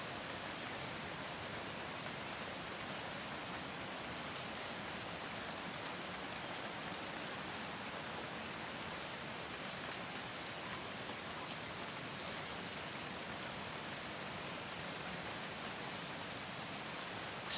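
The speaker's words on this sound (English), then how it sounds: "of the increasingly falling raindrops." Steady falling rain, a dense even hiss of drops on surfaces, fairly soft and constant for the whole stretch with no voices.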